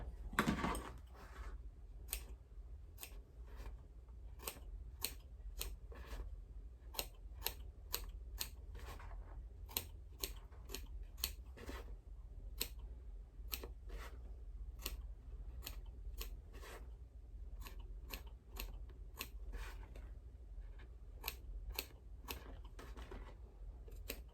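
Scissors snip a lining panel for a crossbody bag in a long series of quick, crisp clicks over a low steady hum, fairly faint and close.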